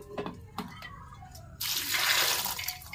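Water pouring into a pot while making kala chana matar chaat, a steady splashing rush that starts abruptly after a few soft kitchen clinks and a brief voice.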